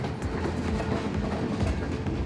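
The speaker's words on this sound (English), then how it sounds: "coal train rolls through" A coal train rolls past on a Rocky Mountain railroad near Revelstoke, its steady low rumble and faint wheel clatter holding close and continuous with no voices.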